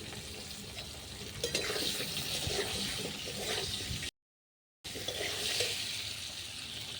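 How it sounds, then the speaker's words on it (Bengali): Potatoes frying lightly in hot oil give a steady, close sizzling hiss that holds throughout, broken by a brief silent gap. "আলুগুলো হালকা ভেজে নেবে"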